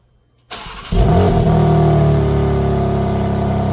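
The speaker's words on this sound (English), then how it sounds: "So let's see what the car sounds like now with its stock exhaust." A 2025 BMW M4 with stock exhaust cranks and fires up with a loud burst, then settles into a steady, rumbling idle close by.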